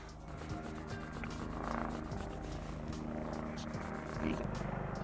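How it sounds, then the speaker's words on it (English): A private helicopter passes overhead as a steady, low, throbbing rotor drone that rises slightly and holds through the whole stretch, distant but continuous, over faint household sounds. "Private helicopter out."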